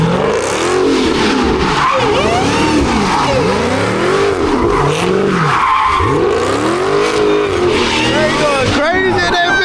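Hellcat-engined Smart car sliding with repeated loud engine revs and tire squeal, close and continuous, with excited voices talking over it.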